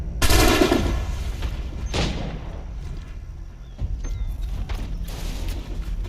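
Gunfire from old muskets in the Assassin's Creed 3 video game: a loud close shot opens the moment, followed by another burst and scattered lighter game noises and ambience.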